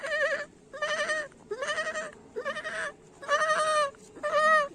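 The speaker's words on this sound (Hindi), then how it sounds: "बकरी सांप से डर जाती है और जोर जोर से चिल्लाने लगती है।" A goat bleats loudly and repeatedly in fear of an approaching snake, six long wavering cries in close succession, near and alone with no talk.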